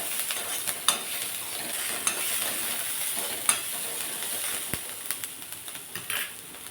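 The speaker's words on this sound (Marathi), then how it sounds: "अर्धा कट करून घेतलेला टोमॅटो, तो पण छान असा भाजून घ्यायचा आहे." Onion and a halved tomato frying in a little oil in a pan, a soft ongoing sizzle punctuated by scattered light taps and scrapes of a utensil, close and quiet, with no one speaking.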